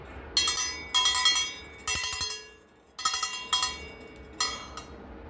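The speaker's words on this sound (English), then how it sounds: "That is the Shadow Cattle Bell." A cattle bell is struck in irregular bursts of rapid, bright metallic clanks, each cluster ringing and decaying before the next, clear and close in a quiet setting.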